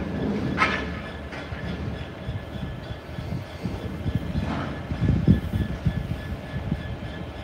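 A DB Cargo diesel locomotive rumbles at a distance, its low engine note swelling and easing in repeated waves, with a few brief higher-pitched squeals.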